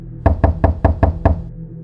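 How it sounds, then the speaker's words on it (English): Loud knocking on a door, six heavy evenly spaced booming knocks, close and forceful, with no voices. "they knocked again, even louder this time"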